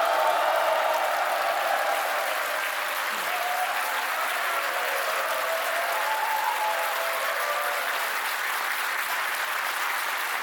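An audience of overseas Korean residents at a meeting in Beijing applauds to welcome the president, a broad, even wash of clapping that holds steady throughout at moderate loudness.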